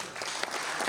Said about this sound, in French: qui méritent d'être applaudis avec beaucoup d'insistance,